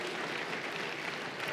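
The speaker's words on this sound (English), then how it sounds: "a big round of applause" An audience at a World Seniors Championship snooker match applauds a fluke shot, a steady, dense round of clapping that holds evenly throughout.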